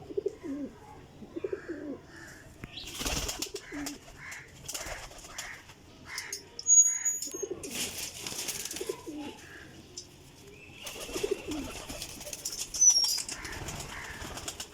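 Flock of high-flying loft pigeons from a full flying setup of about 38 birds, flown in the Jeth–Vaisakh season: repeated bursts of wing flapping and clattering takeoffs, with soft cooing in between, close and fairly loud, no talk.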